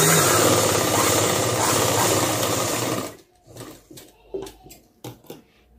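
A sewing machine stitching the front and back pieces of a blouse together runs loud and steady for about three seconds, then stops, leaving a few scattered soft handling noises as the fabric is moved.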